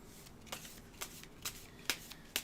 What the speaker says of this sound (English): I forgot to shuffle the enemy encounter deck, so I'm going to go ahead and do that